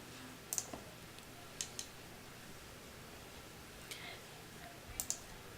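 Several crisp mouse clicks in tax preparation software, scattered singly and in quick pairs over faint room hiss, close and quiet, with no voice.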